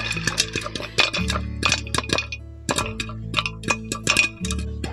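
Corn kernels popping inside a pressure cooker, heard as sharp, irregular cracks and metallic clinks in quick clusters, close and fairly loud over a steady low hum.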